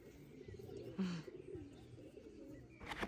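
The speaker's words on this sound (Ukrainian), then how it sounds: "Пташки там. Пташки." Soft pigeon coos sound close by over a low ambient background in Truskavets, with a brief brighter rustle near the start and a light noise at the end.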